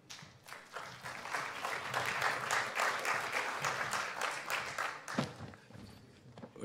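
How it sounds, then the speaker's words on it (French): Audience applause at West Web Fest, a business event, as the guest from Ouest France is welcomed. A dense, steady burst of many hands clapping fills the room, with a brief louder swell near the end and no talking. "Je vous demande d'applaudir Olivier Porte."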